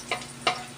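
Garlic fries in a pan as the base for pancit canton with mussels. A soft, steady sizzle is broken by two brief scraping stirs, close and fairly quiet.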